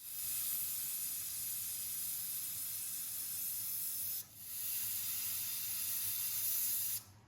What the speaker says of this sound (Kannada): ಕುಕ್ಕರ್ 2 ಸಲ ವಿಸಿಲ್ ಬಂದಾಯಿತು